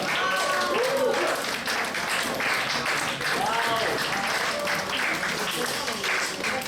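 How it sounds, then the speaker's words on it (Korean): A church youth-service congregation claps steadily as a new member comes forward, a continuous mid-level wash of applause with some voices and cheers rising over it. "앞으로 오실 때 큰 박수 보내주시기 바랍니다."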